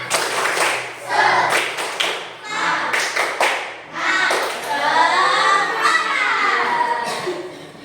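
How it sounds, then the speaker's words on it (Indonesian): Elementary school children in a classroom do a rhythmic spirit clap, with bursts of patterned clapping and taps mixed with their lively group chanting, loud and close. "Oke, tepuk semangat."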